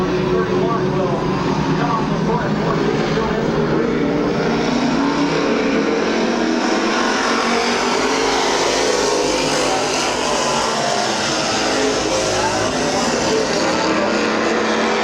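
Race cars lapping Midvale Speedway, engines droning and swelling as they pass, a continuous loud roar under a track announcer's voice.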